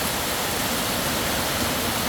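Steady heavy rainfall and flowing runoff water in Tha Muang, Kanchanaburi produce a thick, rushing roar close at hand, even and uninterrupted across the brief span, alone without voices.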